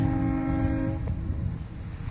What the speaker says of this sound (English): You can hear it off in the distance. It actually just went by.